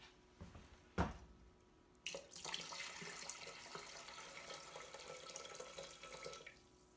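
Hot water from heated canning lids is poured into a pressure canner holding jars of beef stew, a steady close splashing flow after a sharp knock, running several seconds with no talk.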